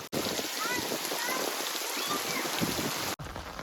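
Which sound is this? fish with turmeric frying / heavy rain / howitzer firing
heavy rain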